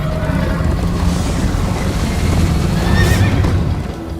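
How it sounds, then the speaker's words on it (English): Horses in the Minecraft: Story Mode video game neigh and whinny over a steady stream of galloping hoofbeats, loud and close, with no talk. "First time on a horse here."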